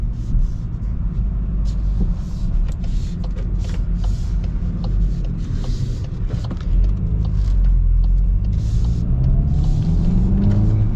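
A VW Golf GTI with a 2-liter turbo four-cylinder engine, heard from inside while driving: a steady low engine and road rumble with faint clicks and rattles, and a slight rise in engine tone near the end.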